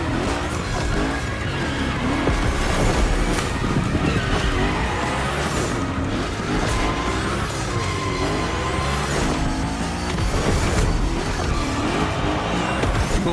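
A car sliding through a Hoonigan gymkhana course in the racing game The Crew Motorfest: a steady, loud engine roar layered with continuous tire squeal and skidding, wavering in pitch as the car drifts, with no voices.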